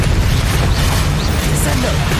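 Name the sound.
Bombarda and Confringo spell explosions in Hogwarts Legacy video game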